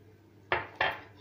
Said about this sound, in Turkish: Şimdi sadece karıştırdım.